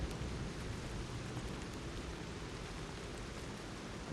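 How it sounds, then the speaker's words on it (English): Steady rain at night around Krat Central Station in the video game Lies of P, a dense, even hiss of falling water with a low rumble beneath, continuous throughout. "Krat Central Station, rainy night."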